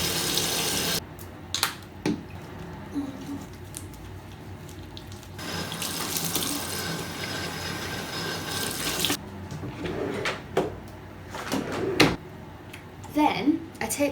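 Water runs steadily from a bathroom tap while someone washes their face at the sink, with splashing and the flow changing as hands move under it, close and fairly loud and continuing throughout.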